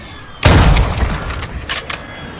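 A single loud, sharp shot from a Victus XMR (AW50) sniper rifle in Warzone 2, with a booming close crack and a rolling, echoing tail that fades over the next couple of seconds.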